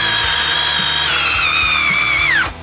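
A DeWalt Flexvolt drill drives an 8-inch timber lock screw, its loud, steady motor whine sagging in pitch under load before abruptly stopping.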